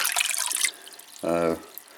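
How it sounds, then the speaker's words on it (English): Calcium nitrate solution poured into water for watering Phragmipedium kovachii orchids makes a close, bright splashing pour for about half a second, then a short gurgle and a few faint drips. "I've just dissolved some calcium nitrate, so I'll add it to the water"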